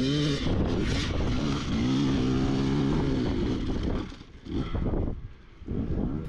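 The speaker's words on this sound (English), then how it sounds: "He's trying to turn his bike around, it goes over the lip there" A dirt motorcycle climbing big hills at Mesquite, Nevada, its engine droning and revving from a middle distance, then easing off and picking up again in bursts.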